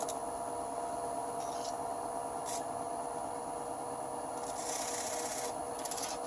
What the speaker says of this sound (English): Let's turn the lathe on. And it's spinning around there